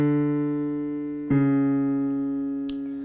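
Two sustained, pure instrument tones a half step apart sound one after the other: the first holds steadily, then a second note enters with a soft attack and rings on, followed by a faint click near the end.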